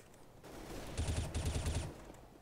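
Rapid bursts of automatic gunfire in Counter-Strike: Global Offensive, several quick volleys packed together, loud and close, with no talk over them.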